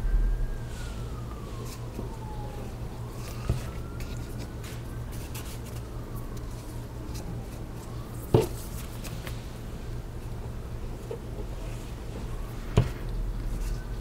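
Police or emergency sirens drift in through an open door at night, a faint rising and falling wail over a steady low hum, with a couple of short knocks along the way.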